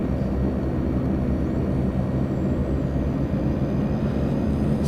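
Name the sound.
Twin Otter aircraft engine taxiing, from video game FSX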